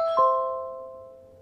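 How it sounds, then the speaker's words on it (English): HomePod speakers throughout a house play a doorbell chime in sync with an existing doorbell, a single clear ding with tones that ring on and fade slowly. "you can actually hear the HomePods throughout the house chime pretty much at the exact same time as my existing doorbell chime"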